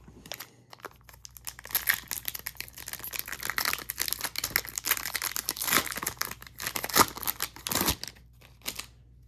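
A foil pack of 2026 Upper Deck Golf trading cards being torn open, with close, loud crinkling and ripping that runs in bursts for several seconds and then thins to a few last rustles.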